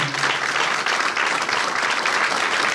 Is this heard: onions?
no